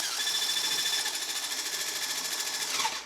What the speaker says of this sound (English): I'm gonna have to stop and scrape this out and whisk some more till you get stiff peaks